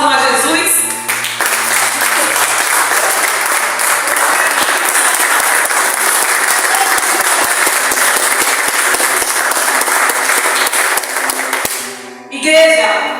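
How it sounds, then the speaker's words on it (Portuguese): A church congregation applauds in a long, loud, unbroken wash of clapping that holds steady for over ten seconds before cutting off, with a voice and other sounds briefly emerging at the very end. "Aplaudam a Jesus."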